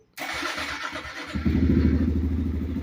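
A Honda Grom motorcycle engine starts up close and loud, then settles into a throbbing, rapid idle that grows slightly fuller and keeps running steadily without any talking.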